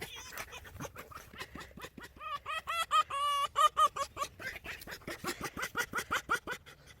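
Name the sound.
fox making weird vocal sounds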